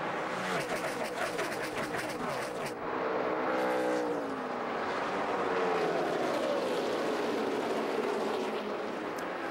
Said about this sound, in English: The slow car of Greg Biffle just in front of the race leaders as they come by at full speed.